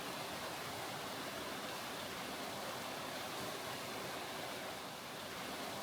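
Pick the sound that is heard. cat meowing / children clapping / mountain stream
mountain stream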